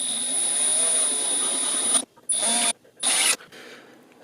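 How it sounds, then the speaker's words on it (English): A power drill drills out the screw heads on a PEQ15-style airsoft aiming laser, with a loud, steady, high motor whine for about two seconds, then two short bursts of drilling, close and without talk. "I got a little overzealous with the drill and ended up drilling out a little bit of the heads"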